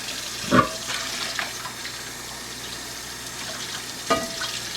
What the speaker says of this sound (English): We're going to rinse it really well.